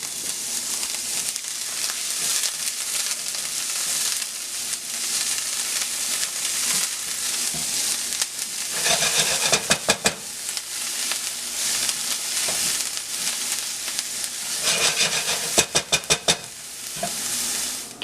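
Chopped white onion and leeks sweat in a hot pan with a steady sizzle and frying hiss. Stirring scrapes and clinks come through in bursts near the middle and near the end, and no one speaks.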